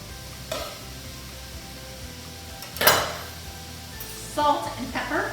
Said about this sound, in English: So we are going to put the onion and the celery in.